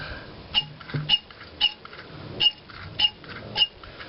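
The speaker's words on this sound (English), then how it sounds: "just push on the primer just to get all the residual gas out of the carburetor and the fuel lines" Primer bulb on an Echo SRM 2400SB string trimmer being pressed to purge residual fuel: six evenly spaced squishy clicks about half a second apart, close and isolated.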